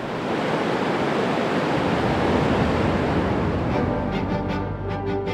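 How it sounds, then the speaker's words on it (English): A torrent of water gushes from giant pipes near the base of Glen Canyon Dam on the river above the Grand Canyon, a loud continuous roaring rush that stays dense and powerful throughout. "With the pull of a lever, Salazar released a torrent of water from giant pipes near the base of the dam"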